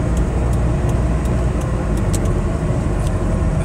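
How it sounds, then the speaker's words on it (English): A 2003 Mitsubishi Lancer ES engine idling with a cylinder 2 misfire, a loud close mechanical drone with faint irregular ticks, no voices. "Cylinder 2 misfire."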